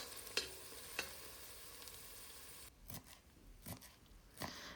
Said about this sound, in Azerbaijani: Soğanımız artıq qovrulur.